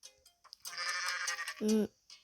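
A goat in Ohio gives one short, loud bleat near the end, after a stretch of scuffling, rustling noise.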